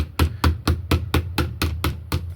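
A hammer taps a metal strip PEMF coil laid on a flat piece to straighten it: about ten evenly spaced, sharp, close knocks in a steady rhythm, fairly loud with short ringing tails.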